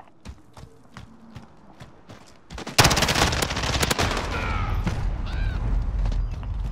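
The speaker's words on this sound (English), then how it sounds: "Friendly sentry gun online." A sentry gun in Call of Duty: Modern Warfare opens fire in a loud, sustained burst of rapid gunfire that erupts suddenly after scattered single shots and clattering footsteps, continuing densely to the end.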